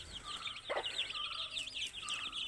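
A chicken clucks nearby in short, repeated calls over faint outdoor background noise.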